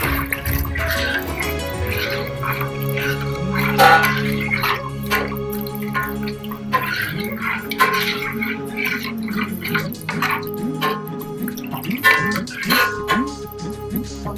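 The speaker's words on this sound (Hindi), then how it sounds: "इसके साथ ही हम पानी मिला देंगे।" Water is poured into buttermilk in a pot for chaach kadhi, a continuous close trickle and drip lasting several seconds with no voices.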